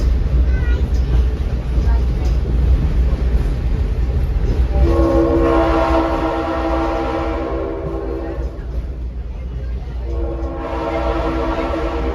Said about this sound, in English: That sound is the horn of locomotive 710.